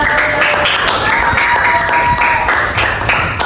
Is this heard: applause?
yes